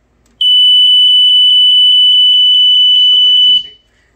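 A BRK 79R smoke alarm under test gives a loud, piercing continuous high-pitched electronic beep for about three seconds before cutting off, with faint voices emerging near the end.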